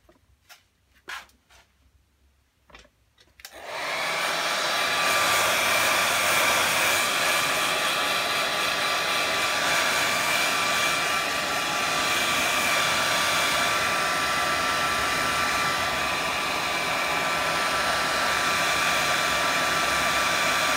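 A hair dryer drying a watercolour painting of a swan, a few faint taps and then a loud steady blowing roar that starts abruptly and runs continuously close by, with no talk.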